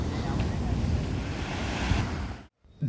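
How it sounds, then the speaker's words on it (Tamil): Surf and wind at Marina Beach in Chennai, where fishermen's boats sit on the sand, roar steadily and loudly. The sound cuts out briefly near the end, then returns. "மெரினா வீச்சுக்கு வந்துவிட்டேன்"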